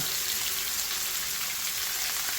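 Tej pata (cinnamon leaves) dropped into hot oil for Indian restaurant-style pre-cooked onions, giving a steady, close, bright sizzle with fine crackle that holds evenly throughout, with no talking.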